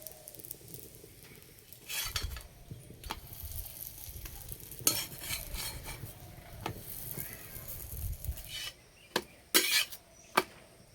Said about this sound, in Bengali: এবার পরোটা দিয়ে দেব। এপিট ওপিট ভালো করে সেঁকে নেব।